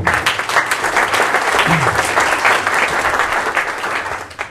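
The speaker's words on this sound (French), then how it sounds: "Vous laissez la place maintenant à Jean-Marc Borrello, que l'on peut applaudir" A conference audience gives a speaker a loud, sustained round of applause, the dense clapping continuing steadily before fading slightly at the end.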